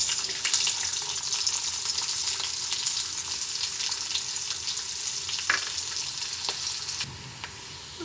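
Onions sizzling in hot oil with cumin seeds and mustard seeds, a steady dense hiss with occasional stirring scrapes and taps, close, easing slightly toward the end.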